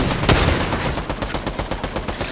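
Rapid video game gunfire rattles in dense, close bursts, with sharp repeated shots running throughout in an automatic rhythm.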